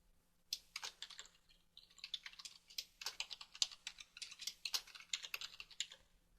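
Typing on a computer keyboard while entering a sheet name in building-design software, a quick, close run of light key clicks in uneven bursts with a brief pause early on, no speech.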